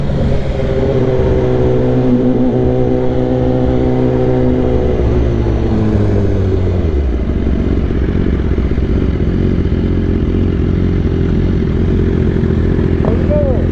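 A superbike idles and creeps along in first gear at a bike meet with a loud, close, steady engine drone that drops in pitch partway through as the throttle eases, with a voice heard under it.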